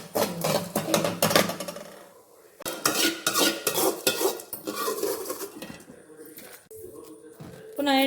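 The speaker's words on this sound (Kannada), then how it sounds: "ಈಗ ಸಿಮ್ಮಲ್ಲಿ ಇಟ್ಕೊಂಡು ಫ್ರೈ ಮಾಡಬೇಕು" Black pepper and mustard seeds fried on a low flame in a pan for Mangalore fish curry, heard as close metallic stirring and scraping with a soft sizzle, under intermittent talk.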